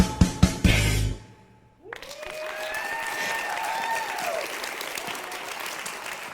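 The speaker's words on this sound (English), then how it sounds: "You were clapping and she was singing about her dead mom" An audience breaks into a burst of applause after a song at a showstoppers performance, loud and sustained, with a few sharp claps first, then a steady wash of clapping with faint tonal sounds underneath.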